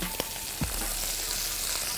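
Garlic powder, onion powder, paprika and chili flakes fry in hot oil, a loud, steady close sizzle broken by a couple of soft spoon knocks, no voices.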